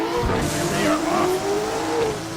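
A Mazda RX-7 race car pulls away from the start at a race meeting, its engine note rising in a steady, fairly loud climb with some tire noise, with other cars roaring alongside.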